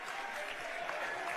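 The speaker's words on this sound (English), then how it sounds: "Crowd gets excited here at the Lions Den" A high school boys' varsity basketball crowd in the Lions Den gym cheers and claps in a steady, faint, distant roar throughout.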